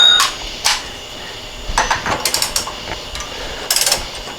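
A hand ratchet tightening bolts on a Porsche 912 engine during a rebuild: short bursts of quick metallic clicking, a few isolated clicks followed by faster runs, fairly close and alone without talk.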